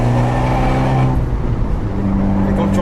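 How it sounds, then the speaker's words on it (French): An Abarth 124 Spider's exhaust drones loud and close with a rising engine note that then eases into a rougher burble, steady throughout. "Expressif cet échappement."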